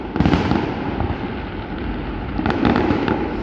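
Fireworks display at Alton Towers theme park, a continuous rumble of bursts and crackles with louder booms near the start and again near the end, heard close up amid a noisy outdoor crowd.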